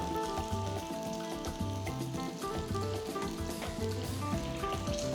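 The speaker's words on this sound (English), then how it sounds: "Gently drop small balls of the batter into the hot oil." Small balls of punugulu batter sizzle and crackle steadily in hot frying oil, a dense continuous spattering close up with no voices.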